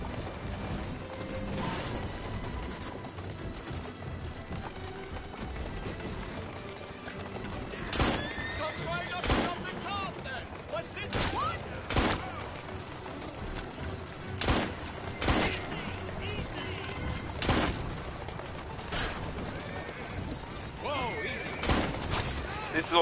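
Gameplay from Assassin's Creed Syndicate, with horse sounds, mechanical clatter and sharp gunshot bursts recurring every second or two, often in pairs, over a steady bed of game noise while people talk throughout.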